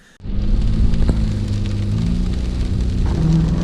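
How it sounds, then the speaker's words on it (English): Rain beginning to fall outdoors at a yard sale, a steady broadband hiss that starts abruptly and holds loud and continuous over a low vehicle-like rumble. "It just started raining!"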